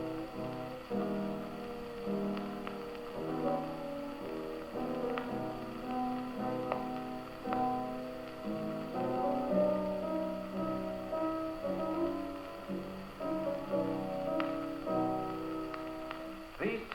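An orchestra plays softly and steadily, two minor-key themes from the second movement of Beethoven's Seventh Symphony weaving together over sustained harmonies. No voices are heard.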